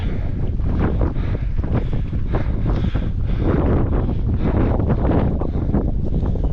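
Strong wind gusts roar continuously against the microphone while hiking up Table Mountain, a loud, dense buffeting rush with no voices.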